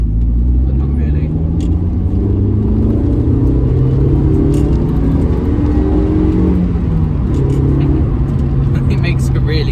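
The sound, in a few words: 2004 Suzuki Ignis Sport engine while driving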